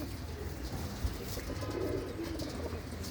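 A bought female pigeon from a village flying breed coos in low, rolling bursts, moderately close, amid steady background noise and faint chirps.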